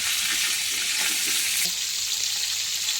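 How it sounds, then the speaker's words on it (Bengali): Rohu fish pieces fry in a pan with a continuous dense sizzle, loud and close, with a few soft clicks from turning or placing pieces early on. "এরকম করে মাছ ভেজে নিতে হবে হালকা হালকা"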